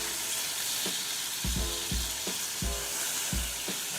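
Chicken pieces frying in a pan for chicken Madeira, giving a continuous moderate sizzle broken by a few low thuds and scrapes as pieces are placed and moved. No talking.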